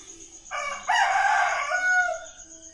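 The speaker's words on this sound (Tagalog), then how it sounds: "Rinig niyo yun? Tilawak ng manok." A rooster crows once nearby, a single loud drawn-out cock-a-doodle-doo lasting about a second and a half against a quiet background.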